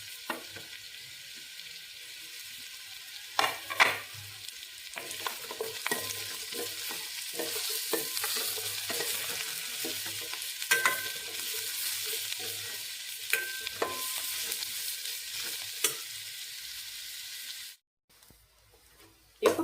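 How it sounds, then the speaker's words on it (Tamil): Bitter gourd sautéing in oil for a kulambu, with steady sizzling and frequent stirring scrapes clicking against the pan throughout, then a brief near-silence at the end. "பாவக்காயை நல்லா வதக்கிடலாம்."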